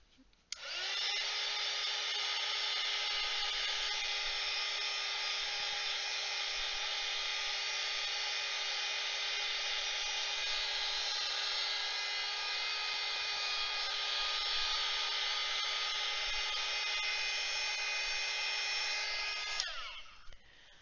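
A hair dryer drying acrylic paint on a painted background: a steady, loud whine starts abruptly, runs unbroken for about twenty seconds, then cuts off.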